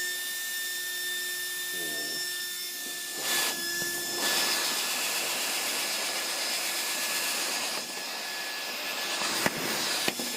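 Small cheap cooling fans on an Arrma Slash 4X4 RC truck blow air in a faint, steady whir with thin tonal whines, alongside a few soft knocks.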